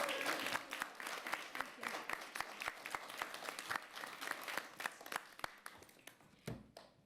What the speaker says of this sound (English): now I'd like all of the children here to cheer her on right now